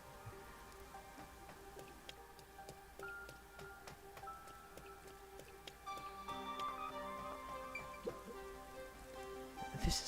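Steady rain falls in the video game Master Detective Archives: Rain Code, a soft continuous patter with scattered ticking drops over layered background music, growing denser and louder toward the end.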